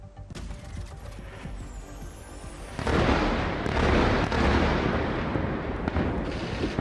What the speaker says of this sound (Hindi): धमाकों की आवाज से दहला रात का सन्नाटा